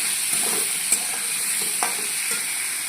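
Potato pieces fry in hot oil in a pan that has just been used to fry soya chunks, giving a steady close sizzle with light stirring clicks throughout and no talking.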